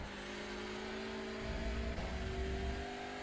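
A Hyundai Elantra race car in iRacing's IMSA Michelin Pilot Challenge at Brands Hatch holds a loud, sustained high-revving engine drone that surges slightly partway through, with no talking.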